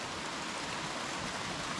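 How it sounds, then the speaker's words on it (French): Tiny waterfall on a river running low on water, giving a faint, steady rushing hiss with no other sounds. "Et là on arrive vers cette toute petite cascade."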